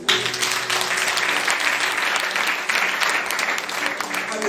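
A church congregation applauds and acclaims Jesus during a sermon, a loud, dense burst of clapping that runs steadily throughout, with voices mixed into the crowd noise.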